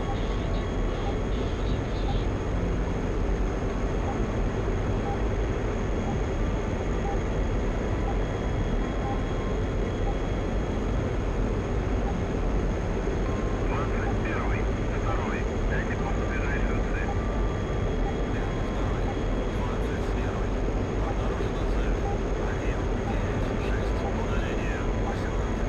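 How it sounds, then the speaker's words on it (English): A MiG-21 jet flies in the DCS combat flight simulator, producing a constant dense engine roar with cockpit hum and steady low rumble, while a voice talks intermittently over it. "I really enjoy flying the MiG-21 in the DCS."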